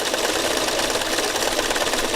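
A sewing machine running steadily during free motion stitching, a close, fast, even mechanical whir and rapid needle clatter that continues unbroken throughout.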